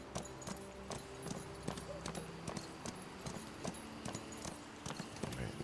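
A horse in the video game Where Winds Meet, its hooves giving a steady clip-clop of repeated light hoofbeats over a faint ambient game background, with the gait continuing evenly throughout.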